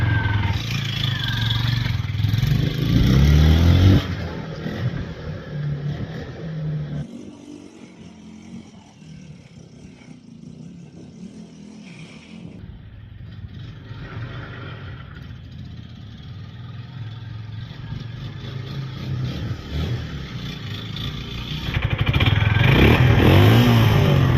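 A 1995 Suzuki GN250 motorcycle that sat neglected for 15 years runs and rolls off under its own power, its engine loud and close at first, fading as it moves away, then rumbling up near again.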